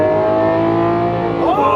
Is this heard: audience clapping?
no